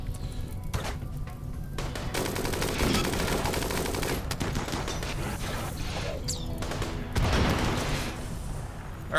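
Artillery and weapon fire in a space asteroid-raiding game, rapid bursts of gunfire and heavy booms rattling in clusters, loud and close, with little talk.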